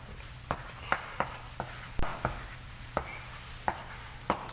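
Chalk or marker tapping and scratching on a board while an equation is written during a mathematics lecture, a series of short sharp strokes at irregular intervals, close and moderately quiet over a low steady hum.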